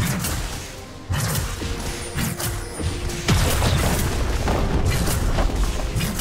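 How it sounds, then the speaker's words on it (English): A turret being destroyed in League of Legends during an Aatrox versus Camille top-lane match, heavy booming blasts and thuds layered over dense game effects and music, loud and continuous. "Red team's turret has been destroyed."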